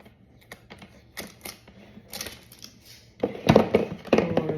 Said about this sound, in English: I'm going to remove this tape they have that's holding it down with the lid